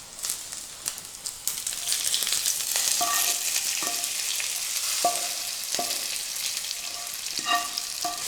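A tempering of curry leaves hits Kerala-style pumpkin and cowpea erissery curry and sizzles steadily up close, broken by a few sharp pops and spoon clinks against the pot, with no talking.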